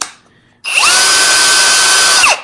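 A cordless hammer drill whirs up abruptly on its low gear at full speed and runs at a loud, steady high pitch for nearly two seconds before winding down.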